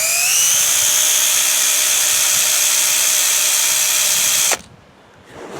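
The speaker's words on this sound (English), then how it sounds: "Small drill bit. Don't drill through your hand." Small electric drill boring a pilot hole into a Land Rover Defender door, a loud steady close whine for several seconds that stops abruptly, leaving quiet room noise.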